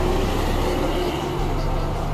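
A Sinar Jaya Hino bus passes close by, a steady loud broadband roar of engine and road noise filling the short stretch without any talk.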